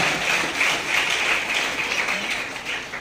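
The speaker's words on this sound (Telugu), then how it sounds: "ప్రత్యేక విధంగా అందరికీ చప్పట్లతో వందనాలు తెలియజేస్తాం" Congregation at a Catholic church feast for St. Teresa clapping in thanks, a steady dense applause sustained throughout at moderate loudness.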